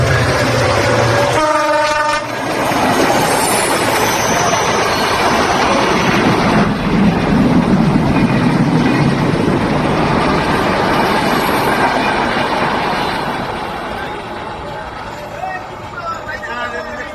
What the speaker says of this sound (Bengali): খুলনাগামী স্পেশাল ট্রেনটি এখন প্রথমবারের মতো Kashiani railway station through pass করছে।